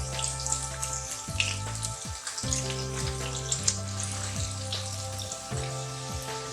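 Onion frying in hot ghee for a chana dal gosht curry, giving a steady soft sizzle that runs underneath louder background music.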